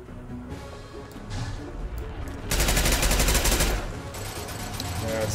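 Rapid automatic gunfire from the Mass Effect 2 video game, a sustained rattling burst over a busy background of game sounds, with softer scattered shots before and after.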